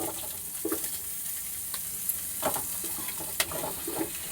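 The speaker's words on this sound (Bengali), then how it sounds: "এবারে আমি ভেজিটেবলসগুলো ফ্রাই করব।" Vegetables frying in white oil in a pan for a mixed vegetable dish with egg and chicken, a steady soft sizzle with scattered scrapes and stirring clicks close by.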